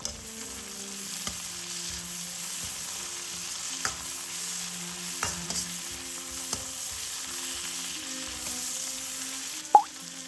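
Scallions and pork belly stir-fried in a wok with salt, sugar and white pepper, a steady close sizzle with occasional clanks and scraping stirs throughout, one sharper knock near the end.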